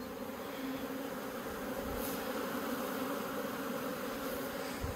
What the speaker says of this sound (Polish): No młoda pszczoła to na pewno lata